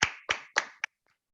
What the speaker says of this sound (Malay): Tepukan kepada Puan Zarina.